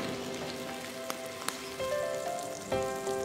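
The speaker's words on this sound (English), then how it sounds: "Now I'm going to saute the shells of these local prawns till the colour changes" Local prawn shells sizzle and crackle softly as they are sautéed in a hot pan, a faint continuous frying hiss with a few sharp pops.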